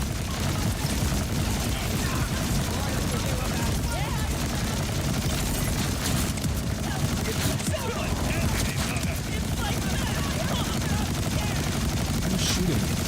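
Dense, continuous gunfire and explosions in the looter-shooter Borderlands 4, a loud chaotic barrage of shots with crackling impacts throughout, and someone talking over it.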